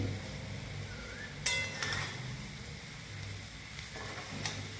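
Rice is gently stirred with spices in a pan for a paneer pulao with green peas, a soft, faint sizzle broken by a few light scrapes and clinks of the spoon.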